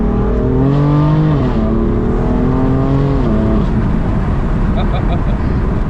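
A BMW 335i exhaust revs hard, its pitch climbing and dropping through a few throttle blips while people talk nearby.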